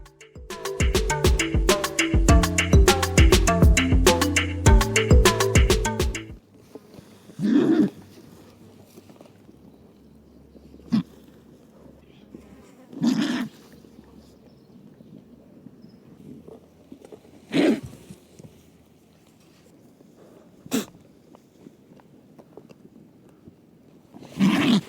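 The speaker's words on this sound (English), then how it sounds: "That, believe it or not, was the sound of a California condor." After a short burst of dense plucked music, a California condor gives several separate low, hoarse, breathy calls spaced a few seconds apart, each brief and moderately loud over faint background noise.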